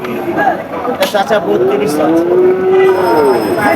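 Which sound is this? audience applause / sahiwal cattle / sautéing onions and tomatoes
sahiwal cattle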